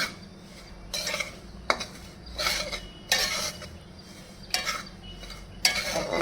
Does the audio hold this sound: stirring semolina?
yes